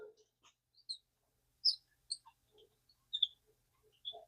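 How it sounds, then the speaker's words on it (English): Sparse, high-pitched squeaks and chirps from a Shakespeare 3000ULX ultralight fishing reel come in short irregular bursts with quiet gaps between them, sounding much like small bird calls. "That's a fishing reel."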